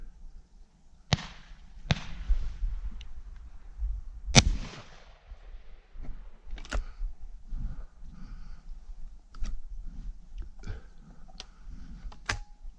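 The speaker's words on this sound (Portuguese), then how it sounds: "Olha, 5 tiros aos pombos." Shotguns fire at pigeons during an outdoor thrush hunt near Lagos and Vila do Bispo in Portugal. Sharp cracks come from varying distances, a few loud and close, others faint and far, spread irregularly across the scene.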